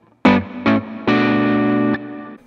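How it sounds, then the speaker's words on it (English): Electric guitar played through a CKK Electronics Infinite Reverb pedal with dampening set halfway: two short struck chords, then a longer sustained one, each leaving a wide reverb tail, alone and close. "so you still get that huge tail of reverb there, but it leaves a little bit more space in the top frequencies for the guitar to cut through"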